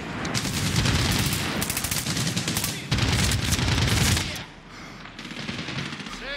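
Dense, rapid automatic gunfire in the video game Medal of Honor: Warfighter rattles in loud sustained bursts, drops away briefly, then resumes in quieter, more scattered shots.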